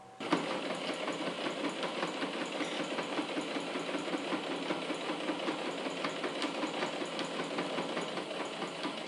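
A sewing machine stitches slowly along the curved seam of a flap-closure pouch, its needle whirring steadily and close with no talk over it.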